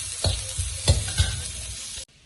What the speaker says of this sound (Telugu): ఇప్పుడు వేగనిచ్చేసి క్యారెట్ ఇవి కొంచెం వేగనిస్తాం